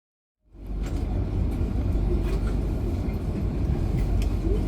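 The KA Dharmawan night train rumbles loudly and steadily past Bekasi Timur station, cutting in abruptly with a heavy low roar and faint metallic clicks above it.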